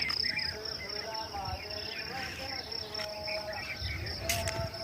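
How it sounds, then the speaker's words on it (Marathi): Crickets chirp in a steady, high-pitched trill throughout a village morning, soft and continuous, with faint distant background sounds. "रातकिड्यांची किरकिर"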